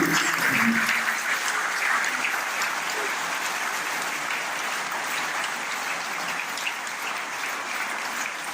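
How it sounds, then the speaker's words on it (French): Sustained applause from a large audience at a speech in Guadeloupe, a thick wash of clapping that holds at a steady level throughout, with a brief voice at the start. "Applaudissons fortement nos sœurs qui se battent."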